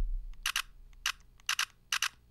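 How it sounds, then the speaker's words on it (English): A Nikon Z8 mirrorless camera fires its mechanical shutter in four close, crisp double clicks, evenly spaced about half a second apart in a quiet room. "it's strange that it has mechanical shutter, so there is like a mechanical"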